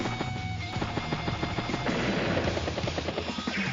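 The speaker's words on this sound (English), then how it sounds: "Helicopter strikes the medium tank." A helicopter unit strikes a medium tank in the video game Advance Wars: Days of Ruin, with a whirring rotor drone layered with rapid, rattling gunfire bursts in a continuous game sound effect.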